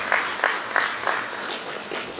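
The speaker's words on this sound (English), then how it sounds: "May we just give the Minister a generous round of applause" A town hall meeting crowd applauds the Minister with a modest, steady patter of hand claps close by, rising in small bursts, with no voices over it.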